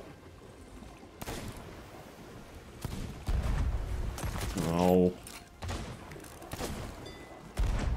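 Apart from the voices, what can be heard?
ship cannons firing in a video game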